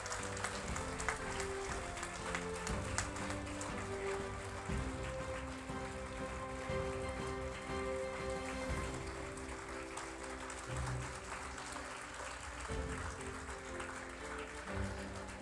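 Steady applause fills an awards-night hall at SLIIT Awards Night 2023, sustained and dense throughout with music or tonal sound underneath, no talk on top.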